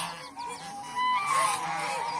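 A heavy female goose of over five kilograms, brooding on eggs, lets out a few close honking calls, rising into a louder drawn-out honk midway through.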